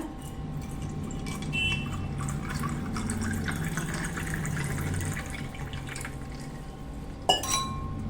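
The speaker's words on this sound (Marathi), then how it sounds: "आता यात आपण थंड पाणी टाकूया" Cold water is poured into a glass holding four or five ice cubes and kala khatta syrup. It makes a continuous trickling pour with light ice clinks, then one sharp clink near the end.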